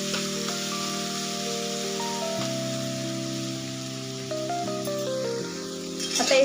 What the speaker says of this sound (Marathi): मिरचीची पेस्ट तेलामध्ये ना कच्चेपणा जाईपर्यंत मिरचीचा परतून घ्यायची